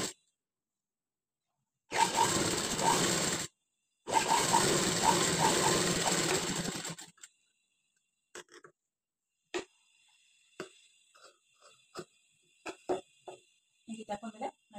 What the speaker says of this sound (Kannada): ಈ ಎಡ್ಜ್ಗೆ ಒಂದು ಸ್ಟಿಚ್ ಹಾಕೊಳ್ಳಿ.